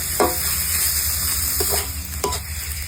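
Beef curry stir-fries in a pan with a continuous loud sizzle and a few sharp stirring scrapes, close and without any talk.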